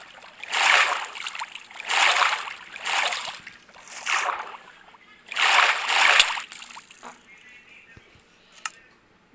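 Water splashing in Minecraft, heard as several bursts of splashy noise in quick succession with pauses between, fairly loud, with a faint thin tone near the end.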